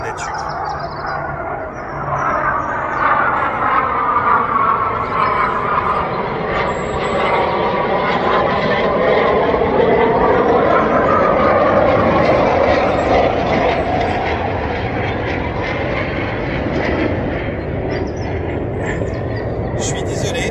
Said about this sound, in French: Avions de chasse de merde que je supporte pas, qui eux apparemment s'arrêtent pas.